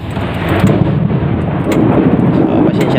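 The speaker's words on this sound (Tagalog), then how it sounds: "medyo kumukulog" Thunder rumbling during a rainstorm, a loud continuous low roll with rain hiss and faint speech-like sound underneath.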